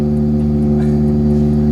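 Car engine of an old first car being revived idles fast at around 2,000 RPM, a loud, steady, close-up drone that barely wavers.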